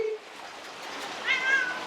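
A pet cat meows faintly in a short, drawn-out call near the end of a quiet moment, with no talking over it.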